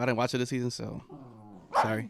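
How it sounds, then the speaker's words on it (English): Dogs bark and growl in short bursts close by, several sharp barks early and another at the end, mixed in with someone talking. "Sorry about the dogs."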